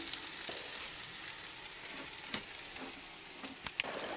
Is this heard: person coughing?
no